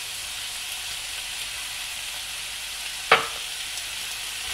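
Ground meat and corn fry in a pan with a steady, even sizzle and hiss, broken once by a single short scrape or clack of stirring.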